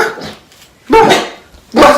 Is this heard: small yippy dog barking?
yes